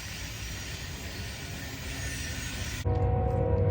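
A freight train approaches on the Great Wilbur Curve tracks in Easley, South Carolina. A steady broad rumble builds, then shifts abruptly to a louder, deeper drone with tonal hum.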